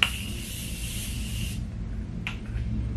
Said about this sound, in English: So I'm using the Morphe, whatever this is, and I'm gonna just apply it all over my face. Not apply it, spray it all over my face.